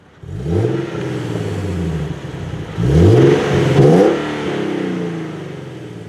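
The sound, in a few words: sports car exhaust revving and popping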